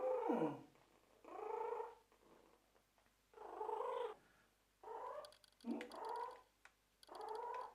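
A small kitten makes clucking, chicken-like calls in a series of separate close bursts, mixed with purring and rough growly tones, no talking.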